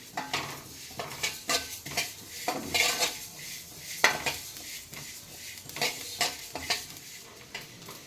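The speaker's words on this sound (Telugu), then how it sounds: "మనం ఇవి ఫ్రై చేసుకోవాలి కొంచెం దోరగా ఫ్రై చేసుకోవాలన్నమాట" Sesame seeds fry in a pan for golden colour, with a soft sizzle under repeated scraping and stirring clinks of a utensil against the metal pan, close and moderately quiet.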